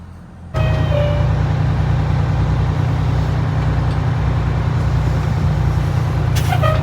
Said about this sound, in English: Here comes the real fire department.